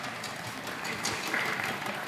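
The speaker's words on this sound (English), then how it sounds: "A big applause here, once again, also from the fans in the studio" Studio fans at an esports broadcast clap in a steady, moderately distant wash of applause that lasts the whole moment.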